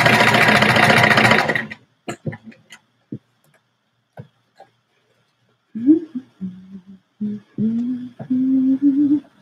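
Sewing machine stitches fabric in a steady loud run for about two seconds, followed by a few scattered clicks and handling sounds, then a voice speaking briefly.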